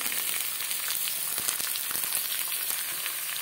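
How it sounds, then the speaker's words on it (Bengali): Carrots and beans fry in a pan for vegetable chowmein, giving a steady, close, continuous sizzle with faint crackles throughout and no talking. "প্রথমে আমি ফ্রাই করে নিচ্ছি গাজরটা এরকম সাইজে কেটেছি গাজর। এবার দিয়ে দিলাম বিনস।"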